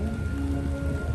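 Heavy rain pours down outdoors in Hong Kong, a dense, loud, continuous hiss with a low rumbling undertone, filling the brief moment without pause.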